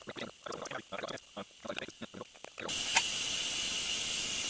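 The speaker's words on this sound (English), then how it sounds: "I don't have a can opener, so I just have my utility knife here" A utility knife jabs and pries around a can of mushrooms in a tent on a frozen lake, giving a run of short rhythmic metallic scrapes and clicks, followed by a steady hiss of background noise.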